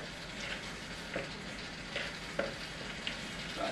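Raw mince, chopped onions, chilies and tomato puree being squeezed and bound together by hand for burgers, giving a steady wet squelching and squishing with occasional soft smacks, close up and with no talking.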